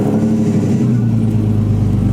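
A car engine fitted with an AEM CD5 digital dash, running loud and close with a steady mid-pitched drone and a slight rise in revs, with no talk.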